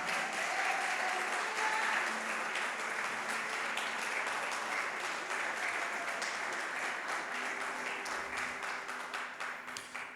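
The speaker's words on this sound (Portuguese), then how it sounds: "Você pode dar uma salva de palmas para Jesus?" A church congregation bursts into sustained applause after the pastor calls for a round of clapping for Jesus, a dense, even wash of many hands filling the hall throughout and thinning slightly near the end.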